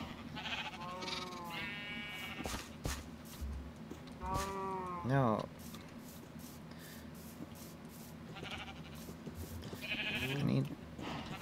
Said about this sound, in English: All the sheep. I want all the sheep.